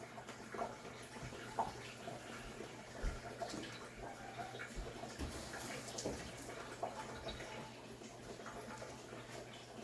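A green vegetable is rinsed and swished in water while a Jamaican red pea soup is prepared, giving a steady wet splashing with a few sharper splashes and drips throughout.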